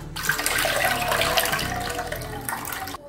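Water mixed with ground paste pours steadily into a cooking pot while a village-style rasam is made, a loud continuous splashing gush lasting about three seconds before stopping abruptly.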